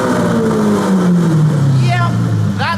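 A Mansory Carbonado Aventador Roadster fires up, its loud exhaust giving a sweeping engine note that falls in pitch and settles into a steady rumble, with a person talking over it.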